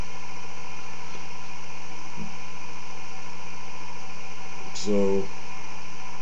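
An experimental 3-phase energizer running up to speed, giving a steady electrical hum with a low mechanical drone throughout, a faint tick in the middle and a brief spoken word near the end.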